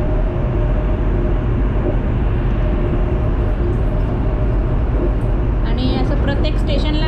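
A Chinese high-speed bullet train, rated at 350 km/h, runs at speed with a loud, constant low rumble and rushing noise heard from inside, steady throughout, with faint higher rattles near the end.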